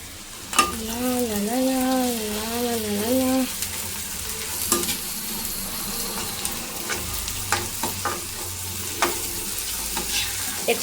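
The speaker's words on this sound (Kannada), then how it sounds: "ಶುಂಠಿ ಬೆಳ್ಳುಳ್ಳಿ, ಈರುಳ್ಳಿ ಎಲ್ಲ ಫ್ರೈ ಆಗಲಿ." Chopped ginger, garlic, onion and capsicum fry in a pan for egg fried rice, giving a steady close sizzle with scrapes and clinks of stirring; a brief warbling tone sounds near the start.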